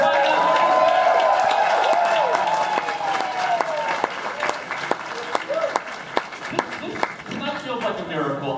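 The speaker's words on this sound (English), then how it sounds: "keep the applause going for VBS Films and A24" Film festival audience at a TIFF screening applauds loudly at first, the dense clapping thinning into scattered individual claps and cheers as a host's voice talks over it.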